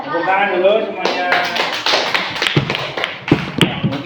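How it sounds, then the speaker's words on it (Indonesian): Audience clapping at the end of a group presentation in a classroom training session, a burst of hand claps starting after a voice, uneven and moderately close, with speech mixed in. "Tepuk tangan dulu semuanya."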